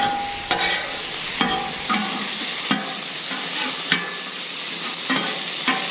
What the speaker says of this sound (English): I like my veggies a little crispy. I'm not going to go crazy cooking them.